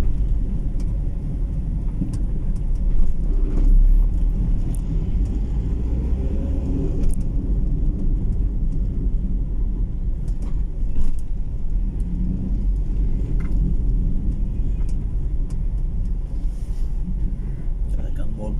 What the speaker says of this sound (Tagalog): Talagang bulag traffic dito.